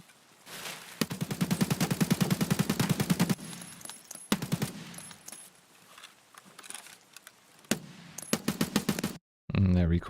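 Rapid bursts of automatic rifle fire in Escape from Tarkov, loud and close, several sustained strings of shots separated by brief pauses, with a short break near the end.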